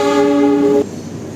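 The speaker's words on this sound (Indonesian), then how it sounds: "Yang baru tiba di stasiun Kroya ini adalah kereta api Jayakarta" A train horn sounds loud and steady for nearly a second, then cuts off, leaving the low rumble of the Jayakarta passenger train rolling in close by at Kroya station, Indonesia.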